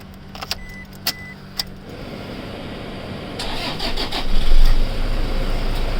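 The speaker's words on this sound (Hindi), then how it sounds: "अब एक दफ़ा गाड़ी को स्टार्ट करके चेक कर लें कि स्टार्ट हो भी रही है या नहीं" A Toyota Hilux diesel engine starts after a fuel filter change. A few clicks are followed by the starter cranking, then the engine catches and settles into a steady, close idle with no talking.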